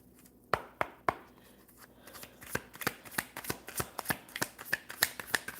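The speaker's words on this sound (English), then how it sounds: "I'm shuffling these backwards." Tarot cards shuffled backwards by hand, a quiet riffle followed by a steady run of crisp, close snapping flicks that quicken toward the end, with no talking over them.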